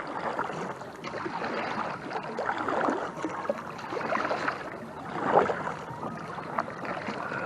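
A paddle dips and pulls through open water as a small boat turns in a slow circle, making soft, rhythmic splashes and gurgles with faint wind and no talking.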